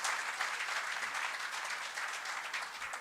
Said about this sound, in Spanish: Un fuerte aplauso para esos estudiantes